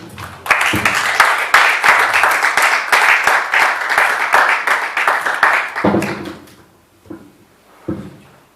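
A church congregation breaks into loud, dense applause that holds steady for several seconds, then fades out, leaving a few scattered claps.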